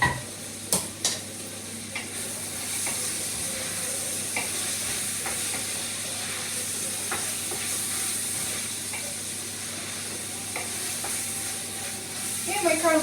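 Sliced carrots cook in a pot for beef or vegetable stew, sizzling softly and steadily, with occasional scraping stirs and clicks from a spoon against the pot.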